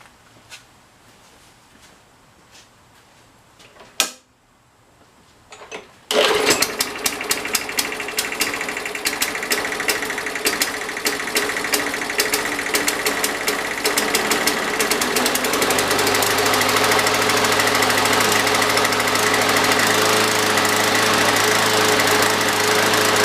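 A small lawn mower engine is revived in spring and kicks to life after a sharp pull, then runs steadily with a loud, rattling, knocking idle that holds on for a long stretch.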